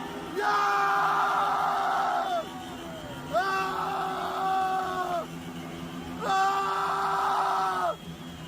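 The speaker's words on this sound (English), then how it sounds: "This man is screaming for joy." A man screams for joy during a crowd celebration in Iran. He lets out three long, loud, sustained yells separated by short pauses, with faint background noise between them.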